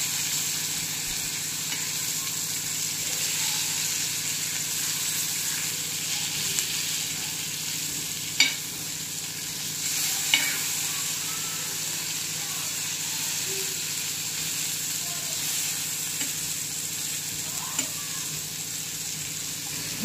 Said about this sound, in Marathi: आपण मासे पलटून घेऊ. एकदम छान लाल भाजले.